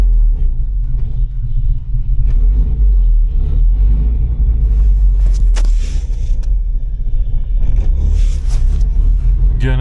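A car engine runs steadily with deep low rumble, the throttle held and then let off, near and loud throughout, with brief clatter and scrapes over it.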